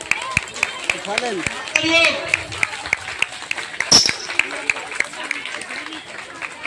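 An audience claps at a yoga competition, sparse scattered handclaps under a person talking loudly nearby, with faint background voices and stage noise.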